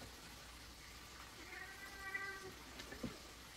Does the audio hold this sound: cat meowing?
yes